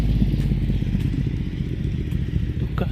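A Honda motorcycle engine runs steadily beside a river in Quebec, Canada, with a low continuous rumble and light clatter throughout and no talk.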